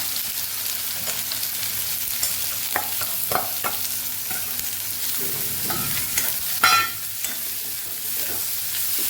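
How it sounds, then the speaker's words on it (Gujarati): Oil sizzles steadily in a pan as onions cook, with occasional scraping and stirring clicks from a utensil over the hiss. "અહીં આપણે ડુંગળીને ઉમેરી દઈશું તરત સાતળી લેવાની છે ડુંગળીને"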